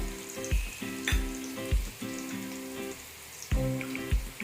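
Spice powders including garam masala and biryani masala fry in a pan for soya chunk biryani, a low sizzle under repeated ringing clinks of a spoon on the pan, nobody speaking.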